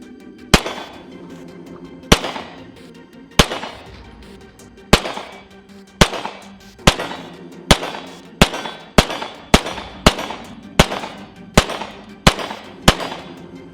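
Gen 4 Glock 19 pistol fired at a steel target outdoors: about sixteen sharp, loud shots, slow and spaced at first, then coming faster in a steady rhythm, each with a brief ringing decay.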